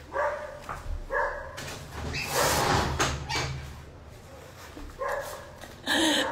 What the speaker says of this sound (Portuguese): o cachorro do vizinho tá me atrapalhando